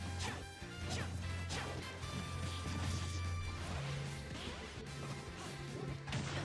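Super Smash Bros forward smash hits land as sharp crashing impacts over game music, with several quick whacks and whooshes in the match audio.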